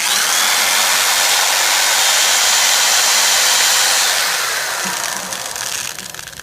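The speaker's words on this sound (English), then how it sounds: "You got to re-drill this out." A power drill whines loudly and steadily as it bores into cast iron, then slows and eases off near the end.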